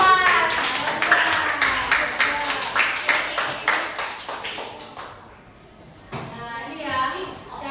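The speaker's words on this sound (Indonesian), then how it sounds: "Tepuk tangan untuk kelompok 4." Classroom clapping for group 4 in a primary school religion lesson: rhythmic, unison claps in a steady beat from a small group of children, pausing briefly, then voices talking afterward.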